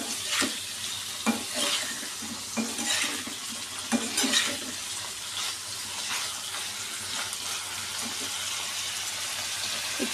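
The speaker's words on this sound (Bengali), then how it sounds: "এবার জাস্ট একটু নাড়াচাড়া করে আমি ভেজে নেব।" Paneer cubes fry in mustard oil with a pinch of turmeric, giving a soft continuous sizzle, while a spoon stirs and scrapes the pan now and then with light knocks; nearby, no voices.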